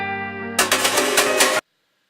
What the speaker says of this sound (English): Now the fill is the sound that comes right before the beat drops